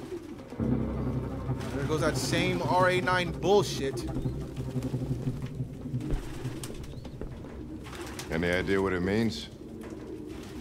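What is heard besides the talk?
pigeons cooing in Detroit: Become Human video game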